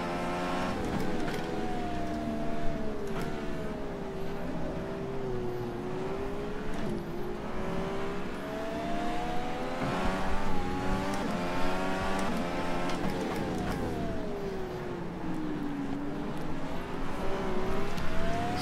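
DW12 IndyCar engine in rFactor 2 at Atlanta Motorsports Park, a steady high-pitched racing whine that rises and falls with throttle and shifts, continuous and close for the whole stretch with no talk.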